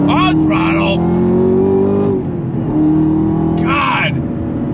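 Chevrolet Camaro ZL1 1LE engine revving hard on throttle, a loud sustained rising drone that dips briefly then climbs again, with a voice talking at the start and end over it.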